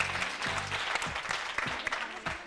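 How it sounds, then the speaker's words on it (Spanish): Audience applause for the Santa Luisa team and the Universidad Pública de Navarra, a dense burst of clapping with some scattered sharper claps, brief and fairly loud throughout. "Aplausos eran para el equipo de Santa Luisa y para la UNA, que se los merece"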